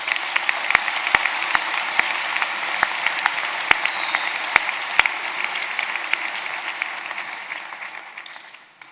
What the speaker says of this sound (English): let's give a collective round of applause to congratulate our peers at the other campuses around the world